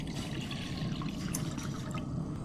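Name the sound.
water poured into a pot for blanching green beans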